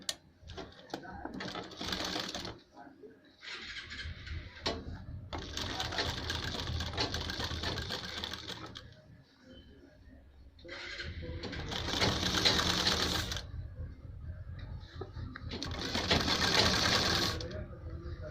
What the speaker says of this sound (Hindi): तो देखिएगा सिलाई करते हैं हम इस पर एक पैर की